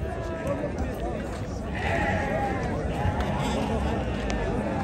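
Sheep bleat amid the busy hubbub of a rural Moroccan livestock market, Arbaa Ouled Jrar souk, where lambs are being bought; calls rise over constant crowd babble and nearby people talking.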